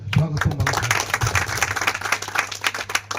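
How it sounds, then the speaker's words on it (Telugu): An audience at a BC welfare association meeting in Konaseema claps to welcome a speaker, with dense, steady applause running under a voice for the whole stretch. "వారికి మీ అందరూ చప్పట్ల ద్వారా స్వాగతం పలకాలి"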